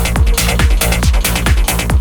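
A trance track programmed on an Akai Force with a synth macro, with pounding four-on-the-floor kick drums under bright, dense synth layers. It plays loud and steady throughout, with no talking.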